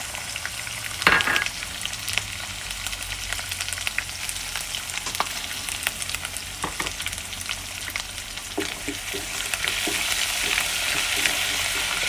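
Dals, cashew nuts and ginger frying in hot oil while being stirred for lemon rice, a steady close sizzle with scattered spatters and occasional scrape-like stirring clicks, no voices.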